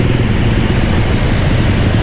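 A Mio motorcycle engine runs steadily nearby, a dense, even low rumble with no pauses or changes in pitch.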